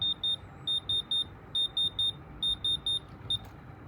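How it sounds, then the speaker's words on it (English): Electronic diamond tester beeping as it checks moissanite stones set in an iced-out watch, giving a steady series of short, high, clear beeps in small groups over a faint background hiss. "See, all the diamonds passing the tester."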